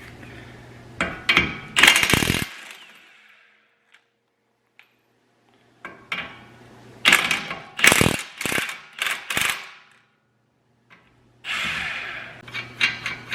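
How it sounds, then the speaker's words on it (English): A ratchet wrench clicks in several quick bursts of rapid ratcheting, close by, removing the nuts and bolts holding a Chevy Equinox steering knuckle to the strut, with short silent pauses between runs. "now we need to remove these nuts and bolts that hold the knuckle to the strut"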